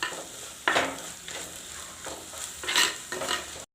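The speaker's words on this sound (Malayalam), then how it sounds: "നല്ലോണം അതിൻ്റെ പച്ചമണം മാറുന്ന വരെ ഇളക്കി കൊടുക്കാം." A spoon stirs spices in coconut oil in a pan for Malabar-style fish curry, giving a steady sizzling hiss with several scraping strokes, close and moderately loud, with no voices.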